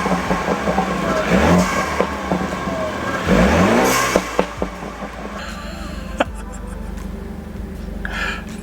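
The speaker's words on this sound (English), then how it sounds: "the blow-off valve, the diverter valve, all of the whooshing is amplified" A turbocharged BMW F30 engine fitted with a GTS hood rumbles and revs nearby, with loud whooshing bursts from the blow-off valve between throttle blips.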